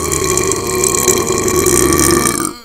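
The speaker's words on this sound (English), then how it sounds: "I just had to burp out of stress relief, heart attack relief." One long, loud, throaty burp sounds close up and rumbles for over two seconds before cutting off.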